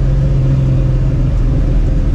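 Supercharged 2004 Mustang GT V8 with straight pipe exhaust cruising at 35 mph, a steady deep low rumble that stays loud and close throughout with no talking.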